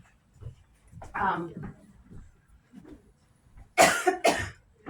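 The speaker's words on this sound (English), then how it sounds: "When I talk too much, I cough." Two sharp coughs come near the end, following soft, faint speech-like sounds earlier on.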